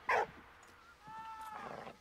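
A dog in the video game Valiant Hearts gives one sharp, close bark, then a thin, drawn-out whine and a few softer yelps.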